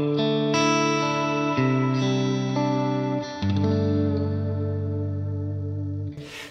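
Guitar played through a modulated reverb on a Neural DSP Quad Cortex, producing sustained, shimmering chords that change a few times and swell with chorus-like wash before fading at the end.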